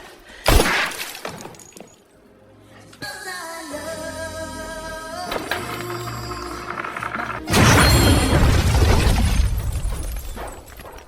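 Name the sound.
restaurant being blown up, explosion in film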